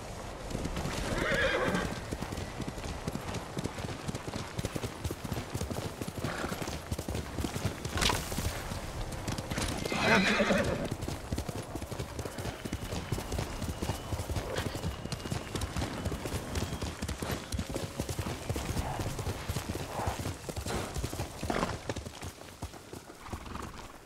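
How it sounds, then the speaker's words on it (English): Horse galloping in the video game Ghost of Tsushima, with rapid rhythmic hoofbeats running throughout and a couple of loud neighs and whinnies rising above them. "You're a good horse, Noble."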